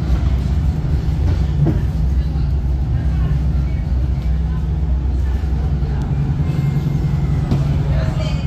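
A sea train runs along the East Sea coast between Samcheok Beach Station and Gangneung, its steady low rumble and hum filling the cabin with occasional faint clicks, loud and continuous throughout.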